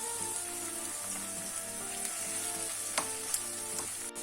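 Ground minced meat and finely grated onion sizzle in a pan, a steady close hiss with occasional stirring clicks and no voices.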